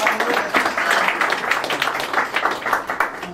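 An audience at a Thanksgiving party applauds after a children's performance, a dense, lively burst of clapping from many hands that rises and falls steadily for several seconds.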